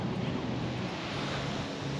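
Waves wash onto a cold Outer Banks beach as a continuous, steady roar of surf, heavily mixed with wind rumble buffeting the microphone and no voices.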